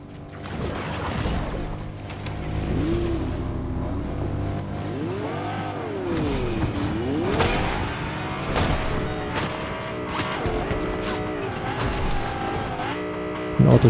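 Car driving in Fortnite, a loud continuous engine drone with rising and falling revs and tire noise, wavering pitch as it speeds along, with no talk over it.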